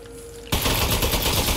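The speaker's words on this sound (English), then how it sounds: "So it's a shooting toilet." Gunfire from a shooting toilet in the game Aperture Desk Job breaks out after a brief quiet. It becomes a loud, continuous rapid-fire burst, close and dense.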